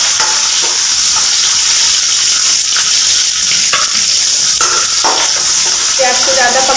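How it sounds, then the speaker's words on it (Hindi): Onion tipped into ginger, garlic and chili already frying in oil, producing a loud continuous sizzle right up close with stirring and scraping noises running through it. "तो मेरा अदरक, लहसुन और मिर्च भुन गया है। तो मैं इसमें प्याज ऐड कर दूँगी।"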